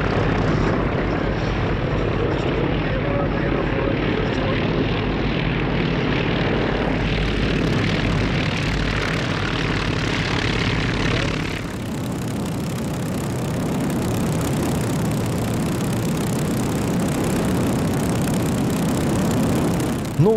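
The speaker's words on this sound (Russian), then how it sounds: "Двигатель, как на старом ПО-2." An aerosled powered by an old Po-2 aircraft engine roars loudly and steadily with a throbbing propeller drone; the tone shifts abruptly partway through as the engine note and wash change.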